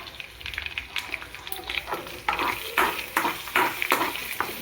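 Dry chilies, garlic and curry leaves crackle as a tempering fries in about two tablespoons of hot oil, with intermittent spoon stirs and scrapes against the pan, moderately loud and close.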